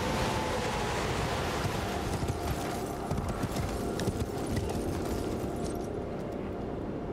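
Horse hooves clip-clop steadily in the Elden Ring video game, a continuous close rhythm of impacts mixed with a broad windy, surf-like wash throughout.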